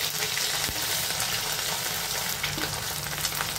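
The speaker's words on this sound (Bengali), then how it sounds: "আরেকটা পিঠও 2 মিনিটের মতন ভেজে নেব।" Mourala fish frying in hot oil for a fish jhal with potato and brinjal, a steady close, loud sizzle and crackle running unbroken throughout with no voices.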